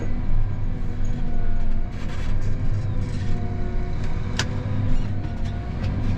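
A farm tractor engine runs steadily at close range, a continuous low rumble with a faint rattle that eases slightly partway through and holds at a constant idle, with no talking.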